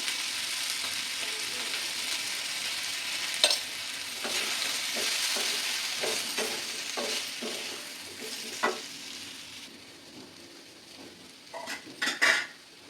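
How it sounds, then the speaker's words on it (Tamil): Chili-powdered vegetables with boiled raw plantain sauté in a pan for a Tamil offering dish, a steady sizzle throughout with repeated spatula scrapes and clinks, louder metallic knocks near the end, no voices. "மிளகாத்தூள் போட்டு ஒரு 2 நிமிஷம் நல்லா வதக்கியாச்சு, பச்சை வாசனை போகிற வரைக்கும்."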